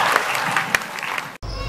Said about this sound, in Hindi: तो तालियां तो बजा दो।